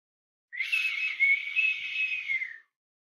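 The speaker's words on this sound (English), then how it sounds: "Never knew how to whistle, y'all." A person whistles one steady, sustained note lasting about two seconds, loud and close, alone in otherwise silent surroundings.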